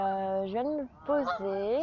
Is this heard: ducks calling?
yes